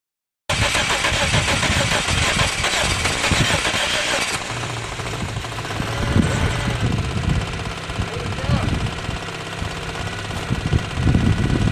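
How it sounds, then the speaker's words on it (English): A Suzuki Swift engine cranks and catches after a short silence, then runs roughly at a rattling idle that sits loud and close, with a voice briefly heard over the running engine. "Oh, it's firing. It's running."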